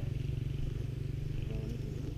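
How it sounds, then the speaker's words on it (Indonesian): A trail motorbike engine rumbles steadily nearby, a low throbbing drone with some clattering, constant throughout the short clip. "motor trail."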